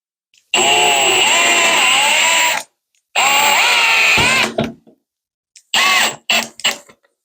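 A power drill whirs loudly up close while driving screws to mount a curved shower rod. It runs in two long bursts and then gives several short stuttering pulses as the screw is tightened.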